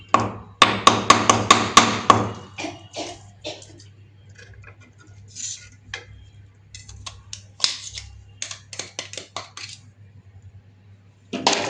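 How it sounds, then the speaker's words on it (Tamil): Ice cubes being taken out of a tray while making sathukudi (sweet lime) juice, heard as a quick burst of sharp, close cracks and clicks followed by scattered lighter knocks and rattles, then quiet. "ஐஸ் கட்டி உள்ள நல்லா இருக்குது. இதை எடுத்துக்கிடுவோம்."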